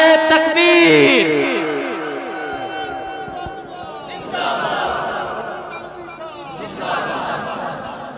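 At a religious conference in Thana Mandi, Rajouri, a crowd answers the takbir call with a loud, brief collective shout at the start, then fades into murmur and scattered voices.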